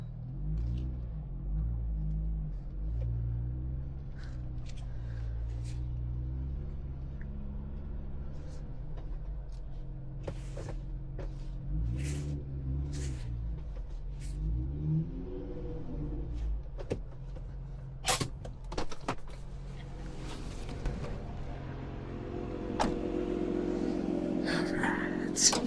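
The engine of a four-wheel-drive vehicle stuck on a beach gives a low, steady rumble with occasional shifts in revs, while people talk nearby.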